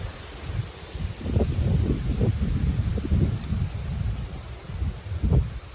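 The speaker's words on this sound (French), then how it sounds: "Donc, on peut parler même de vent fort" Strong wind buffets the microphone in heavy rumbling gusts, loud and continuous with surging pulses, without voices.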